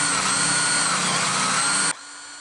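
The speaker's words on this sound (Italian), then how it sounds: "Montiamo il tutto e recuperiamo il filo tramite il trapano" An electric drill spins a fishing reel to wind line onto the spool, a loud, steady high-pitched whir that cuts off abruptly near the end, leaving a faint hum.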